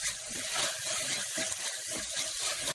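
Ginger garlic paste sizzles and fries in a pan for chicken gravy, a dense close hiss with soft stirring scrapes, steady throughout with no talking.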